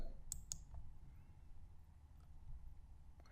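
A computer mouse clicks twice in quick succession, crisp and close, over a faint background hiss, with a soft tick following later.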